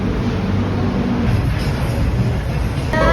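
A light rail train rumbles past nearby in Cubao with a low, steady mechanical roar and faint rhythmic rattling, loud and continuous.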